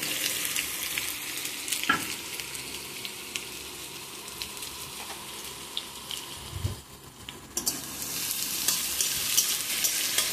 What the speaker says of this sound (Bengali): তেলটা গরম হয়ে গেছে, বেরেস্তার জন্য পেঁয়াজটা আগে ভেজে নেব।